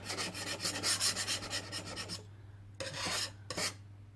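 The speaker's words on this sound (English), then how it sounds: "Trimmed my candle, cleaned all the wax off, and from underneath as well." Dried candle wax is scraped off a candle holder in rapid rasping strokes, close and rhythmic for about two seconds, then two shorter bursts of scraping after a pause.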